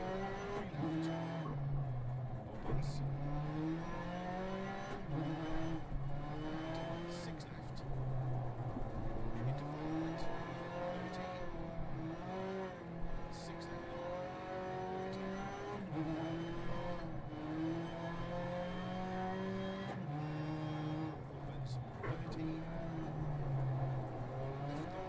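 A rally car in Dirt Rally 2.0 on dirt and gravel roads revs up and down repeatedly, the engine whining through rising pitches between shifts and lifts, with occasional gravel crunches and no voices.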